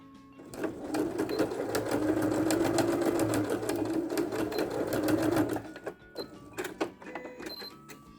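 A sewing machine stitches bias binding onto fabric for a Kindle, tablet or phone holder, running in a loud steady rapid whir for about five seconds before slowing into a few short stop-start bursts.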